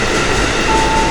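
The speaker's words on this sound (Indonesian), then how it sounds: "ini kereta dari arah Duri baru masuk di jalur" A commuter train rumbles loudly and close by, with a steady metallic drone and a thin squeal as it rolls into platform 1 at an Indonesian station.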